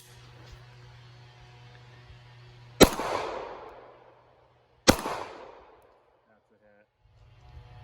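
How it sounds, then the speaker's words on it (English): Two sharp, loud shots from a Smith & Wesson M&P M2.0 9mm pistol with a 5-inch barrel, firing 147 grain flat-faced rounds at a body armor plate, each crack followed by a decaying ringing tail, about two seconds apart. "I'll be shooting these 147 grain flat-faced 9mm out of it."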